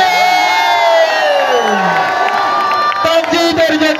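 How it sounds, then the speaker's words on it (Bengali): Crowd at a night kabaddi tournament cheering and shouting loudly, high excited voices and whoops close by, with some clapping emerging toward the end. "হাততালি।"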